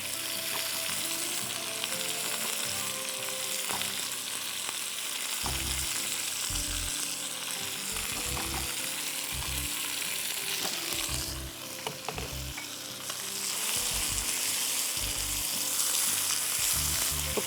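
Spice masala sizzling in a hot pan for pepper roast chicken, a steady bright frying hiss broken by intermittent scraping and stirring knocks, close and continuous.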